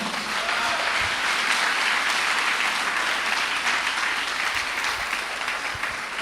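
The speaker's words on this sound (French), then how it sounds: "On peut acclamer le Seigneur" Sustained, even applause from a church congregation praising the Lord, a dense wash of clapping at steady volume throughout, with faint low thumps underneath and no clear speech.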